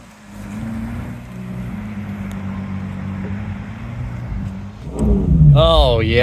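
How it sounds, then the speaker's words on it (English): A Ferrari 812 GTS Atelier starts up in a tight parking area. A low, steady rumble runs for several seconds before the engine fires into a loud, rising rev burst at the end. "The Ferrari engine fires up into life."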